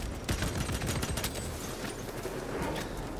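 Dense, continuous gunfire from the Warhammer 40K Space Marine 2 video game fills the clip, rapid overlapping shots and impacts at steady loudness with no pause.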